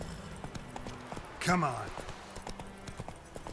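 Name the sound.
horse galloping in video game The Witcher 3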